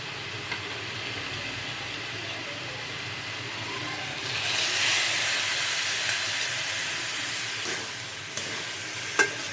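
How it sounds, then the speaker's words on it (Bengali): Papaya curry cooks with a spice paste in a pan, making a continuous moderate sizzle and hiss that swells slightly midway, broken by a few light scrapes and knocks. "এটাকে একটু কষিয়ে নিয়ে তারপরে জল দিয়ে দেব"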